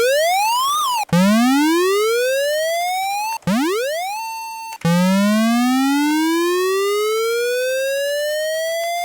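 Korg Gadget chiptune synth tone with aliasing: loud sweeping electronic pitches that glide and reset several times, with harsh mirrored overtones folding across the upper range, no talking.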